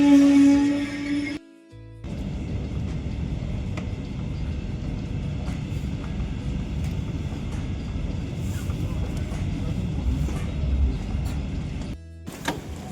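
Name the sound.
train running on rails in Germany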